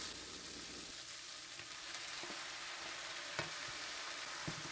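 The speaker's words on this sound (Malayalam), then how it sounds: "ഇനി ഇതിലേക്ക് കഴുകിയെടുത്ത് വച്ചിരിക്കുന്ന റൈസ് നമുക്ക് ചേർത്ത് കൊടുക്കാം" Washed rice tipped into a pan of vegetables and spices for vegetable pulao, with a steady quiet sizzle and a few faint ticks of grains and utensils, no voices.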